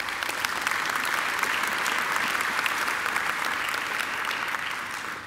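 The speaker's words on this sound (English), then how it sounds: "I think Anthony deserves another great round of applause" A graduation ceremony audience gives a warm round of applause for Anthony: dense, steady clapping from a large crowd that holds strong for about five seconds, then eases slightly at the end.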